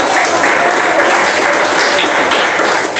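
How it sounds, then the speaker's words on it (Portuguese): A church congregation claps hands together in a loud, close, continuous wash of applause with no voices over it. "Vamos bater palmas."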